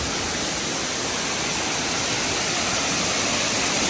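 Steady, loud rush of falling water at Vattai waterfalls in Kerala, a dense, unbroken roar with no voices over it.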